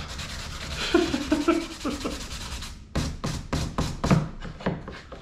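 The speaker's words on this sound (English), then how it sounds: "Sanding is just awful." Wood being sanded by hand gives a series of rhythmic rasping strokes, close and moderately loud, with a voice talking during the first few seconds before the strokes continue alone.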